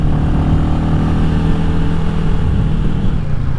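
A Royal Enfield Classic 350 single-cylinder motorcycle climbs a steep hill under acceleration, its loud, steady low engine drone holding a constant labouring note throughout, close up with continuous wind-buffeted rumble and no voices.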